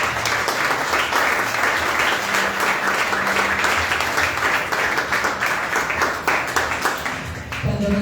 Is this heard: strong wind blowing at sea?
no